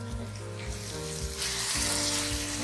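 Tindora (ivy gourd) sizzles steadily as it cooks in a pan, a close, continuous frying hiss with a low drone beneath it.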